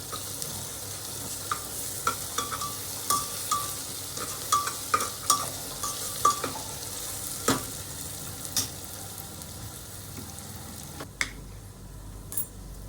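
Green herb paste stirred into browned onions in a pan for chicken pulao, a soft steady sizzle broken by repeated scraping stirs of a spoon against the pan, close by with no talk.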